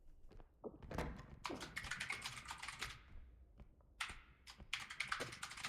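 Rapid clattering keystrokes on a computer keyboard, arriving in dense bursts with brief pauses between them, close and fairly loud, with a few heavier thunks mixed in during a gaming session.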